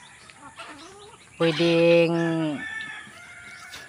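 A lone native rooster crows loudly and close by in a rural Bohol yard, one long harmonic crow over softer clucking and scattered fowl noises, with a brief word of speech nearby.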